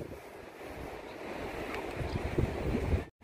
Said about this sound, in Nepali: तिला नदी